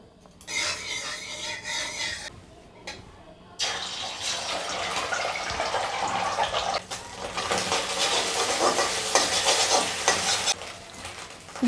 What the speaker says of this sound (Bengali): ঝুরি ঝুরি করে ডিম ভাজা করে নেব।